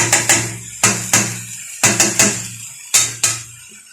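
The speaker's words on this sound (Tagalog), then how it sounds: "Uy, halu-haluin." Metal utensil scraping and clinking against a pot in clusters of sharp knocks, about four bursts, close and fairly loud with no talking.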